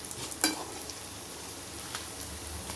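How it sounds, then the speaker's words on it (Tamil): Pirandai (adamant creeper) frying in oil with rock salt for chutney gives a steady soft hiss throughout, broken by one sharp clink near the start, with no talking. "நல்லா பிரண்டை வந்து எண்ணெயிலே வெந்தரணும்"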